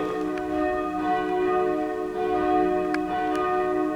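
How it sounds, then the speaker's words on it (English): Church tenor bell being rung up, its strong sustained tone with rich overtones swelling and ringing steadily, with a few faint higher strikes of other bells, no talking. "That's one of them going up. Is that the tenor bell, Tim?"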